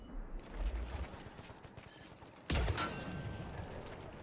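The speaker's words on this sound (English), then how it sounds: "Right, sniper rifle." A sniper rifle fires in Mass Effect 3 with one loud, sudden crack midway, followed by a ringing tail, set against a steady bed of game noise and rumble, with no voices heard.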